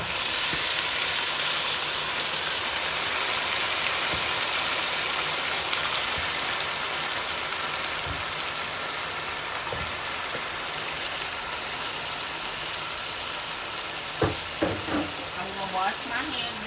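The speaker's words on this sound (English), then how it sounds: "I'm going to take my pieces of meat and I'm going to just put it in there" Pieces of meat coated in brown sugar frying in a pot, giving a steady, dense sizzle throughout. A few knocks and clatters come near the end.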